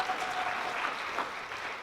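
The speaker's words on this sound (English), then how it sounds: "Have a big round of applause." Audience at a mushroom festival lecture giving a round of applause, dense steady clapping from a crowded room, fairly faint and continuous throughout.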